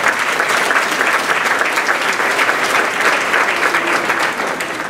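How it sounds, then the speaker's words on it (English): Dense, sustained applause from a large gala audience fills the room, loud and even throughout with no break. "Let's give them another round of applause."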